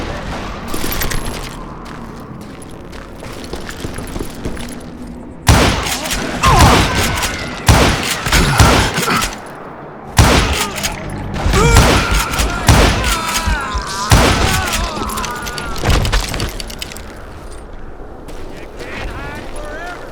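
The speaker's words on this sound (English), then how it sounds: "Kid Curry opened up on me with a goddamn Gatling gun" A Gatling gun fires in the Western shooter Call of Juarez Gunslinger, with dense bursts of rapid gunfire and heavy booms separated by brief lulls, loud and close, while voices speak between and over the shots.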